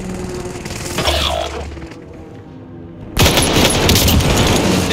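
Bren light machine gun fires in bursts inside a video game, heavy gunfire cutting in loud and dense near the end after a quieter stretch with other game noise.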